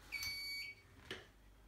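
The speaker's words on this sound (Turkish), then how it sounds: "İkinci alarmımızı da verdik." A few short, high electronic fire alarm beeps from an Edwards EST3 system sound, faint and brief, with a pause between them in a quiet room.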